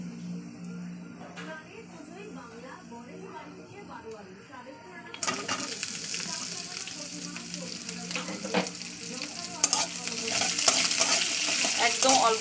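Chopped onion and garlic are added to a small amount of oil already holding whole cumin, garlic and chili. Talk comes first, then a sudden loud sizzle bursts in and keeps crackling steadily with stirring.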